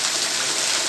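Loud, steady rushing water pouring powerfully over a spillway, a constant broadband roar with no break.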